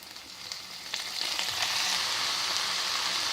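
Amaranth leaves and onions fry in a pan, starting with a few stirring clicks before a broad, steady sizzle rises and keeps going, close up with no talking.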